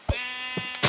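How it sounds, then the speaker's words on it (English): Minecraft sheep give one sustained, nasal bleat, loud and close, with short clicks and hits just before and after it. "there's four of them. And a brown sheep,"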